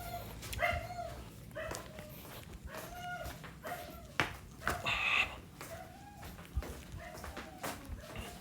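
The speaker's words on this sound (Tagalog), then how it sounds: "Pakaingay na ng aso eh." A dog barks repeatedly in short, faint yips and woofs, heard from some distance indoors, with a few whimpering tones mixed in and low background noise throughout.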